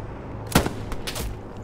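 Gunfire in the video game Hell Let Loose: one sharp, loud shot followed by two quicker, fainter cracks, echoing over a low background rumble.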